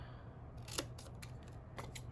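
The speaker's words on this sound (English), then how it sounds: "I'm going to cut a deeper banner here." Scissors snip through card stock to cut a deeper banner, several sharp, quiet clicks spaced unevenly, close up over a low background hum.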